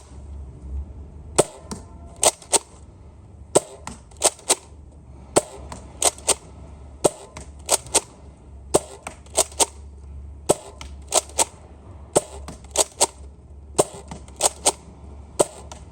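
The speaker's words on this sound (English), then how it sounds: "I'm going to be firing at Bessie on our backyard shed from 30 feet away to see how the accuracy is." Nerf Hyper Rush 40 blaster fired in a backyard at a shed from about 30 feet away: a long series of sharp, snappy pops, some single and some in quick pairs, spaced irregularly over steady low background hum.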